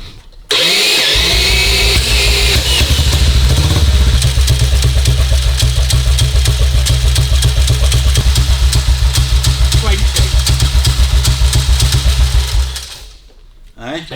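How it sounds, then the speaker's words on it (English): A 1952 BSA M21 single-cylinder motorcycle engine starts and runs at a loud, steady, close-up idle with a rapid thumping pulse, then cuts off near the end; voices briefly under it. "Sounds like a motorbike, yeah?"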